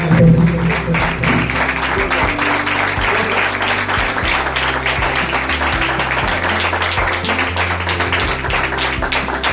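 A church congregation celebrating Mother's Day gives mothers a loud round of applause: dense, continuous clapping with rhythmic taps and a steady low tone underneath, sustained for nearly ten seconds.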